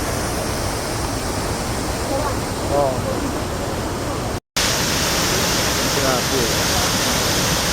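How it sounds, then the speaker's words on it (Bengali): Lyngksiar waterfall in Meghalaya, water pouring down from two sides, gives a loud, dense, unbroken roar close by, with brief speech over it and a momentary dropout midway. "আমরা এখন লিন্সের ফলসের সামনে দাঁড়িয়ে, দারুণ ফলসটা। দুদিক থেকে জলরাশি নামছে"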